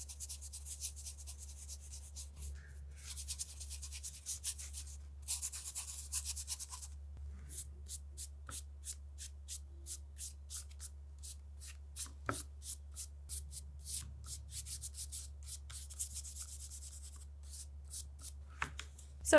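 A dry brush rubs across sketchbook paper in quick repeated strokes, a soft papery scratching that comes in bursts and then settles into a steady run of short separate swipes over a low constant hum.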